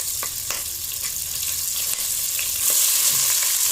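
Two or three slit green chilies hiss and crackle in hot tempering oil, a close, continuous sizzle with occasional stirring scrapes that swells louder toward the end.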